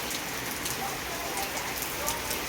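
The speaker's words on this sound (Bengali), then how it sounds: "সুন্দর বৃষ্টি পড়ছে" Steady rain falling outdoors, a continuous broadband hiss of drops on surfaces with scattered brighter patters, evenly loud throughout with no talk.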